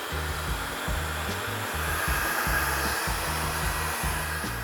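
Hot air blows steadily at a BMW R80 motorcycle wheel hub during a wheel bearing job, making a constant close whooshing hiss with no breaks and faint low tones underneath.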